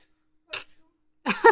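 Two short, sharp sneezes from a dog, the first quick and light, the second a bit louder after a pause.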